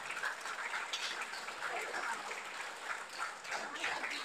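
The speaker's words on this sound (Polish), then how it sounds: "Wielkie brawa jeszcze raz." Audience applause for a juggling show by Artur Krzysztofski and Łukasz Banach in a Roman-style amphitheatre at Energylandia, a steady dense clapping throughout, fairly distant and soft.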